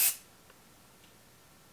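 A short, sharp burst of Marc Anthony silicone-free hairspray with Humidity Shield, one quick hiss lasting a fraction of a second and then near-silence.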